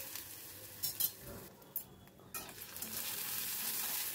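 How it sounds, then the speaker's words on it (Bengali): Onions and ginger garlic paste stirred in a frying pan, with spatula clinks and scrapes over a soft, steady sizzle that briefly drops away before returning. "তখন আমি এর ভেতর দিয়ে দিচ্ছি 1 টেবিল চামচ মতো আদা রসুনের পেস্ট। আবার সব কিছু ভালো করে মিশিয়ে নিচ্ছি।"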